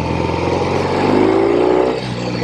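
A classic Norton Atlas 750 motorcycle engine revs hard and close, its throaty drone climbing steadily in pitch mid-burst before dropping back to a steady idle.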